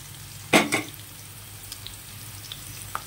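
Chillies, cabbage and carrot pieces fry for homemade chicken fried rice: a sharp close clatter as they land and are tossed in hot oil, then a quieter sizzle with a few small scrapes.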